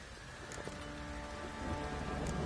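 Light rain patters steadily in the background with a low rumble, a soft continuous wash that swells slightly toward the end.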